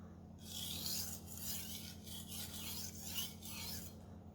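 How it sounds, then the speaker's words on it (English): A knife is drawn across a whetstone in quiet, rhythmic rasping strokes, about eight even back-and-forth scrapes close by, with a low hum underneath and no talking. "sharpening is just that you distress the edge, you create an apex, you form a burr, and then you remove the burr, and then you refine the edge"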